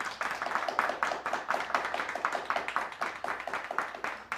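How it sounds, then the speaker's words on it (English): A small studio audience claps steadily for several seconds, individual hand claps distinct and fairly close, with no talking over them. "Let's hear some more applause for our audience."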